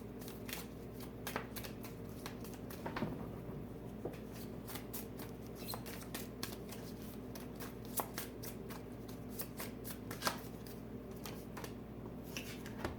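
Tarot cards shuffled by hand, a quiet close run of riffling and sliding card sounds with frequent sharp snaps scattered through, continuing steadily with no speech.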